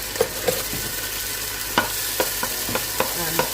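Garlic dropped into hot oil for a prawn stir fry, a steady sizzle under a series of clinks and scrapes from a utensil stirring in the pan, with no voice.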